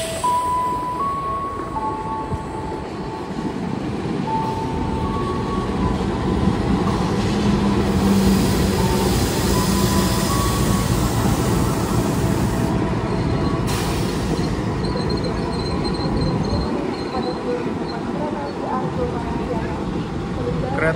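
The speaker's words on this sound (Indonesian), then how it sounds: "lalu sirang lagi dengan kereta api Argo Parahyangan yang dari Gambir" An Argo Parahyangan train from Jakarta Gambir bound for Bandung rolls through Cimahi station with a loud, continuous rumble of wheels on rails and faint squeals, while a person talks over the passing train.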